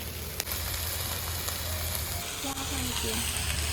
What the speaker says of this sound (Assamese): কিমান ধুনীয়াকৈ ভাজিছোঁ চাওক, পূৰা ড্ৰাই ফ্ৰাই বনাইছোঁ